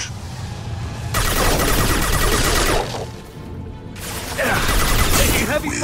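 Heavy gunfire in Mass Effect 2: loud sustained bursts of rapid shots and impacts, broken by a short lull before firing resumes, with voices mixed in.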